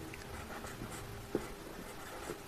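Pen or chalk writing out a maths working on a board or page, a soft, scratchy stroke pattern with faint scrapes and one small tap, quiet and close in a still room.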